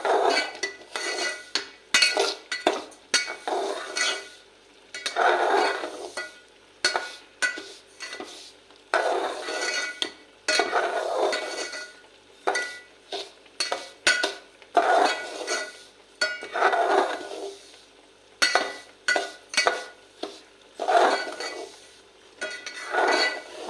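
Fine semolina is stirred in a pan during a light roasting for a Maharashtrian flatbread, giving repeated scraping and clinking strokes of a spoon against metal in uneven bursts with short pauses.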